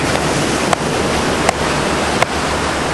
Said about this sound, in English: this side of the island at the moment the waves are just going to be way too big